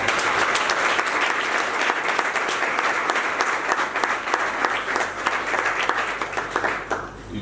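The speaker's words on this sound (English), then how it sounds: "he deserves another round of applause" Sustained applause from a large audience, dense steady clapping throughout at fairly constant loudness, thinning slightly at the very end.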